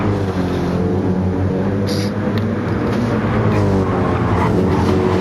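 Race cars in Gran Turismo 7 on the Dragon Trail circuit roar together at high revs, engines whining and shifting in pitch as they jostle closely, with brief tire squeal under a continuous loud drone.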